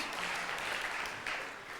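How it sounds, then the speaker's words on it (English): Audience at a church service applauding volunteers, a short, faint patter of clapping from a crowd, distant and even, with no voices over it. "You get a round of applause for our volunteers"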